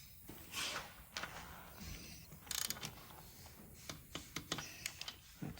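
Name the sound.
torque wrench tightening motorcycle cam bolt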